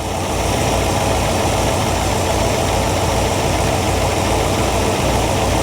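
A car engine idling with its carburetor idle mixture screws being adjusted, a steady, loud, close rumble with an even rhythmic pulse and slight knocking, no voices.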